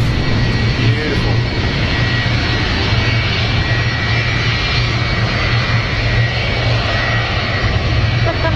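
A Lufthansa jet airliner with CFM56 engines at Manchester Airport gives a loud, steady roar and whine that fills the whole stretch, with faint voices beneath.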